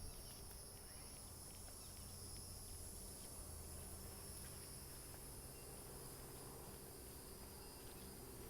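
Cicada buzzing steadily and faintly on an outdoor nature walk among bushes and trees, a continuous high insect drone with a low rumble of background noise throughout and no voices.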